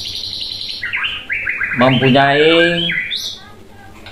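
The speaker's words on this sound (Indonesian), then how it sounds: "murai batu ekor putih" White-rumped shama (murai batu) in full song, a rapid run of varied whistles, trills and chattering phrases, loud and close, with a voice speaking over it.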